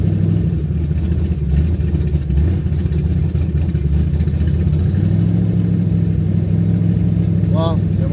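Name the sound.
twin turbo car engine idling and revving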